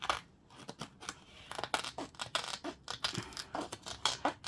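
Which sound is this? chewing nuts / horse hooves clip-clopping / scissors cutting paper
scissors cutting paper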